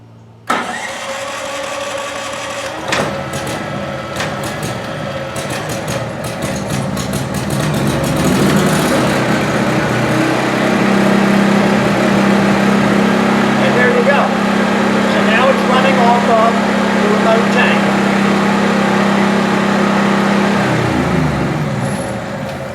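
A WEN 5000 generator running off a remote extended-run fuel tank cranks over and catches, then settles into a steady, loud running drone that holds for several seconds before shifting near the end; talk is heard around the start.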